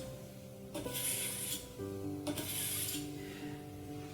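Two slow scraping strokes of a kitchen knife pulled through a pull-through sharpener's preset edges, each a bright metallic rasp lasting about a second, close and fairly quiet.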